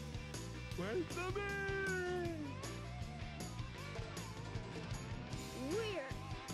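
A purple cat meows in the Sonic Adventure video game, its drawn-out, rising and falling cries sounding twice over busy game music.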